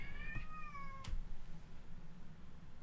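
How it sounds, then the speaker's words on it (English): A cat nearby lets out a drawn-out, clear meow, followed by a single short knock against a quiet indoor background. "You'll probably hear that's my cat in the background."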